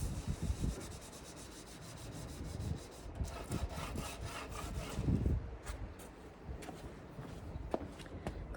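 A scrubbing brush scours varnish off a wooden dresser, with steady close rubbing and scratchy strokes, fairly quiet, with occasional knocks and no speech.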